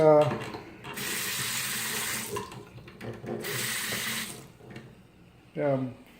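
A sink faucet in a house runs in two bursts of steady rushing water, loud and close, with brief pauses between them and a voice speaking at the start and end; the faucet sometimes keeps running after being turned off.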